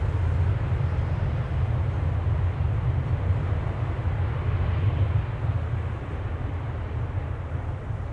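A Boeing 777-300 airliner departs Amsterdam Schiphol Airport, a loud continuous low jet roar that holds steady across the whole stretch.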